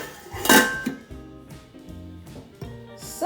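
A lid set onto a pot of simmering stock with bay leaves, one bright metallic clank followed by lighter clinks and a ringing pot tone, close and clear with no voices.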